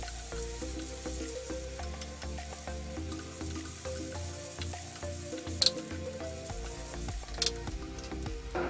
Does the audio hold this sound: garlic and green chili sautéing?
yes